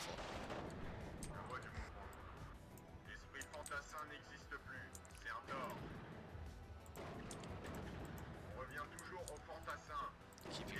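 Mortar artillery fire in the WARNO strategy video game, heard as a dense run of booming impacts and gunfire that continues through the clip, mixed with game effects and a steady background.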